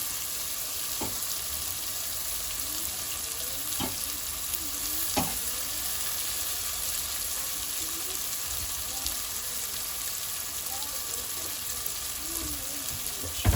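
Haitian rice and beans sizzle steadily in a hot pot, a continuous crackling hiss with occasional soft clinks and stirring sounds, no talking.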